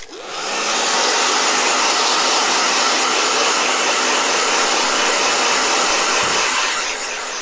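A blow dryer switches on, then blows at a loud steady roar with a broad airy hiss close to the microphone before easing off at the end, with no voices.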